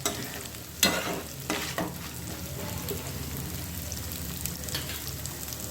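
Food sizzles steadily in a frying pan for several seconds, with a few sharp scraping clicks of stirring near the start over the continuous hiss.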